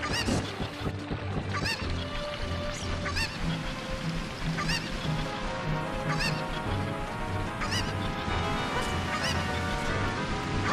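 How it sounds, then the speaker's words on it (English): Repeated squawking calls from a cuckoo chicken in Ocarina of Time, like an agitated chicken, honk over busy game music and effects, loud and close. "Why not terrorize a small cuckoo?"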